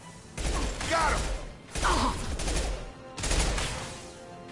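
Impact shot gunfire in the sci-fi shooter Mass Effect 2 comes in three sustained rapid bursts separated by short pauses, loud and close with mechanical clatter.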